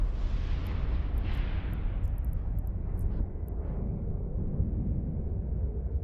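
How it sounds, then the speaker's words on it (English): Rumbling explosions during space combat in EVE Online, a heavy continuous roar with low booming swells and faint high clicks, steady and loud without speech. "So we do have some nice explosions here."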